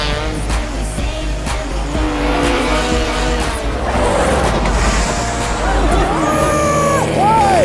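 Go-karts racing on a track, with engines whining and droning close by, tyres squealing, and crowd babble underneath throughout.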